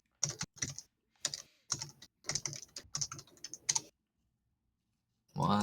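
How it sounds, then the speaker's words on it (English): Computer keyboard typing in quick, uneven bursts of clicking keystrokes, with short pauses between runs, a long silent gap, then a final burst of typing at the end; no talking. "Michael's typing away"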